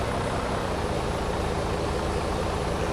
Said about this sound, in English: Starting engine number 1.